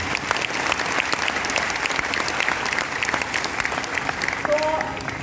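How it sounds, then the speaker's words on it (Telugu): A youth event audience claps loudly after an inspirational speech, a dense sustained burst of applause throughout, with a faint voice briefly audible near the end. "మరి మీరందరూ ఇది యాక్సెప్ట్ చేస్తే ఒకసారి గట్టిగా చప్పట్లు కొట్టాలి"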